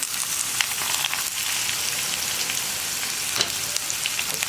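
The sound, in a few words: ridge gourd being stirred and sautéed in a pan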